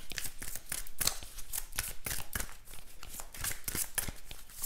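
Tarot cards are shuffled close up in a quiet room, a rapid run of crisp riffling snaps and soft slaps in an uneven rhythm with no talking.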